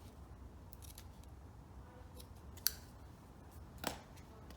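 Scissors trim excess material from a faceted box with a magnetic lid, giving two sharp, close snips over a quiet background.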